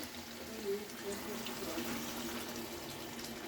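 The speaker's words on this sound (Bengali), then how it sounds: "আর আমি এতে দিয়ে দিচ্ছি হালকা করে জল" Water poured lightly into an eggplant and hilsa fish curry in a pan, a soft continuous trickling pour under a low steady background.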